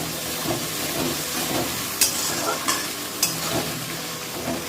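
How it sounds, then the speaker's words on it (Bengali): Spices are stir-fried in a pan with a continuous loud sizzle and hiss, broken by repeated scraping strokes and a few sharp clinks of the spatula against the pan. "আমি মশলাটা দিয়ে কষিয়ে নেব"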